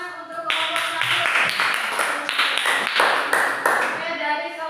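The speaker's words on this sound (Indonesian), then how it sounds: "beri tepuk tangan untuk kelompok 1" A classroom of students applauds a group, a burst of fairly loud, uneven clapping that carries on for several seconds with voices mixed in.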